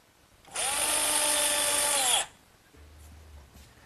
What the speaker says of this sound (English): now we'll just secure everything in place using some 1¼ inch galvanized screws